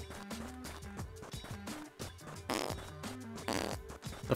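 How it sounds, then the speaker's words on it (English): Cartoonish fart noises from a bear character in a survival video game, several short bursts over layered game music and effects, fairly loud and close. "that farting is getting bad"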